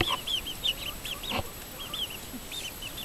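Chickens in a pen, including a bearded chicken, give short repeated clucks and squawks at moderate distance over a steady background hiss, with no talking.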